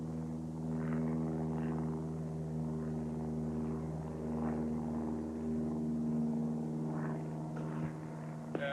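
A helicopter flies over open wilderness while a team darts a running bear from the air, giving a steady, droning rotor and engine hum that holds at a constant level throughout with no voices.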